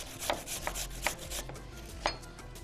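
A kitchen knife chops food finely in a home kitchen, giving several sharp, irregularly spaced taps up close over low background hum, with no talking.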